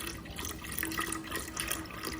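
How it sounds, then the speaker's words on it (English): Water and chicken broth bubble at a boil in a stock pot, a quiet, steady churning and gurgling with fine bursting bubbles, close by and with no voices. "Okay, the water is boiling"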